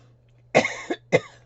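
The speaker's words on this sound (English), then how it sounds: "You have to excuse my coughing" Two short, harsh coughs close to the mic, the first with a quick follow-up rasp, over a faint low hum.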